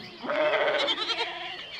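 A single loud, close goat bleat at an ashram, a wavering cry lasting about a second and heard alone against a quiet background.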